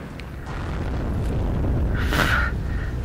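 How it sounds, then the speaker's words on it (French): Grenade explosion in the video game Heroes & Generals: a muffled boom swelling over ongoing battlefield rumble, its peak around two seconds in, heavy and fairly near, with no talking. "Allez, grenade!"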